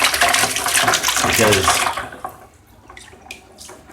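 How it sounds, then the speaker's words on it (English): Water from a tap splashes loudly as a filter pad is rinsed out under the running stream for about two seconds, then the flow stops and only faint drips and handling sounds remain while a person speaks briefly. "you just want to rinse your pad out really good"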